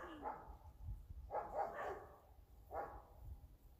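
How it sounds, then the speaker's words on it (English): Out in the hills at the Bridestones, a dog barks three times at a distance, faint bursts spaced about a second apart over quiet outdoor wind noise. "That's somebody coming down with a dog."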